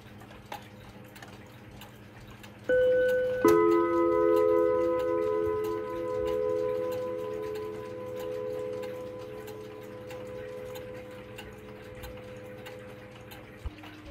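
A clock's built-in loudspeaker plays its chime, a few tones that start sharply and then ring out and fade slowly over soft room noise and faint ticking.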